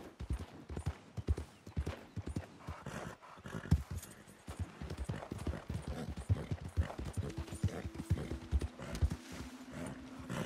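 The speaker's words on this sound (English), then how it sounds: "Just look at that horse." A horse's hooves clip-clop in the Red Dead Redemption 2 video game, a steady rhythmic trot of crisp close hoofbeats on hard ground, fairly quiet, with a faint tonal hum entering toward the end.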